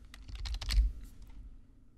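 A quick burst of keystrokes on a computer keyboard, close and fairly quiet, with irregular clicks that speed up, then trail off into near silence.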